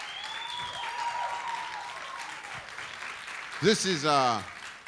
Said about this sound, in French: Vous pouvez vous faire un applaudissement pour vous-même.